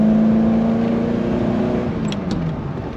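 An old Ferrari engine runs steadily with a strong, continuous droning hum that eases slightly toward the end, heard close and alone with no talking.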